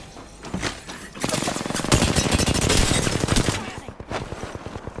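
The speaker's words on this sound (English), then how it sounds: "The enemies are shooting at me." Enemies firing guns in a video game, a loud, dense burst of rapid automatic fire that swells after a brief lead-in and then tapers off.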